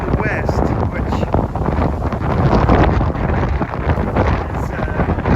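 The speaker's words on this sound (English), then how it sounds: "because that's not a normal wind for us" Strong wind from the west roars steadily across the microphone outdoors ahead of rain, a loud, continuous buffeting rush with no pauses.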